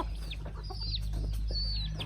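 Backyard chickens, a flock of around thirty, cluck and chatter softly while pecking at poured-out food scraps, with short squawks rising over a steady low hum.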